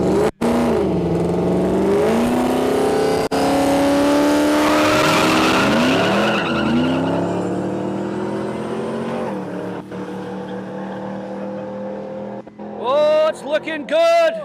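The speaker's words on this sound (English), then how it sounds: "Paul Curley, Scotty Hoffman, Nissan Patrol against Toyota Supra." A Nissan Patrol and a Toyota Supra drag race on an airstrip: loud engines rev and climb in pitch through the gears, with tire squeal, then fade as the cars pull away, followed by a brief sharp burst near the end.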